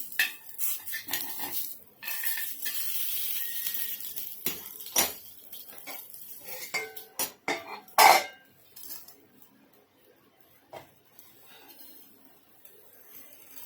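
Jowar flour flatbread being flipped on a pan, heard as scattered metallic scrapes and clinks of a utensil against the pan, with one sharp clatter midway and quieter handling toward the end.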